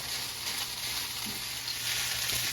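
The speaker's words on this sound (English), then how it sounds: "we're going to stir them around in here now" Rice stirred into vegetables, onion and garlic sizzles in a pan as fried rice cooks, giving a steady, moderately loud hiss with faint scraping, no voices over it.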